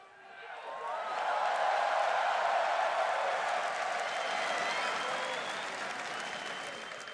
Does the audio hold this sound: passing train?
no